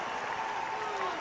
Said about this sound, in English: How do you feel listening to this crowd cheering for you in this